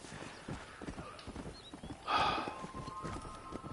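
Horses gallop hard in a race in the Red Dead Redemption video game, a dense rolling clatter of hooves with a brief whinny midway, continuous and fairly close.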